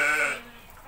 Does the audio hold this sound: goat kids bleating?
yes